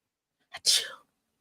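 A single sharp sneeze, a quick inhale followed by a loud burst, close and alone in otherwise silent surroundings.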